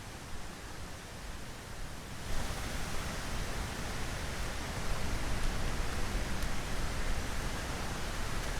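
Steady, dense hiss of rain falling on the U.S. Open tennis grounds in New York City, constant and broadband, growing slightly louder partway through, with no voices.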